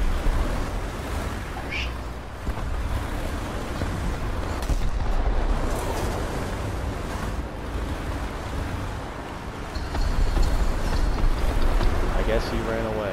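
A booming blast from a bomb dropped in a tank battle video game featuring an M3A3 and T-34, heavy rumbling low-end impacts rolling under a churning, wind-like background roar.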